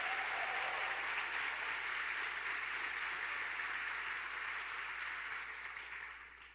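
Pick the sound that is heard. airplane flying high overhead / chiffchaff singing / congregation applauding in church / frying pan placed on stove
congregation applauding in church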